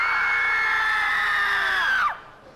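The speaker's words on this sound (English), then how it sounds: "squeeze together, and on 3, give us the scream" A crowd of people from North Carolina scream together on cue, one loud sustained group shriek lasting about two seconds before it breaks off abruptly.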